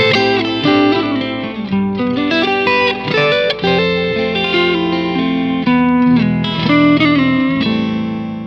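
Electric guitar with effects, light distortion and chorus plays a melodic solo whose notes follow the changes of the underlying chord progression, with phrased single-note lines over steady backing chords, loud and continuous with no talking.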